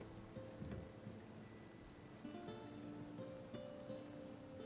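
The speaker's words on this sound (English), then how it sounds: "listening to the pitter-patter of the rain" Steady rain patters softly and continuously, a faint, even wash of drops with a few slightly sharper taps.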